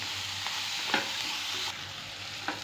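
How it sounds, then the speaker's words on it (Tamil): Tomato, curry leaves and green chili sauté in a pan, a soft, steady sizzle close by with a few brief stirring scrapes and no voices. "தக்காளி சேர்த்துக்கிறேன் இப்போ தக்காளி நல்லா வதங்கணும் இப்போ வந்து இந்த கருவேப்பிலையும் இந்த ஒரு மிளகா பச்சை மிளகாயும் சேர்த்துக்கிறேன்"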